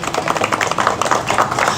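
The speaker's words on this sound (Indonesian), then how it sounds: "Tepuk tangan buat Ulfa dan Firman." Brief burst of classroom applause for two students, Ulfa and Firman, a dense patter of many small hands clapping close by for under two seconds.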